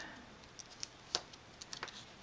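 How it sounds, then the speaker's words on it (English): Adhesive tape pulled and pressed down during a craft project, with a few faint, brief snaps and crackles over a quiet hiss, the strongest near the middle. "A little bit more tape."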